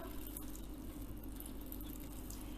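Water drains from squeezed cheesecloth holding chenna for sponge rasgulla, a faint continuous trickle with a few soft drips, quiet and close.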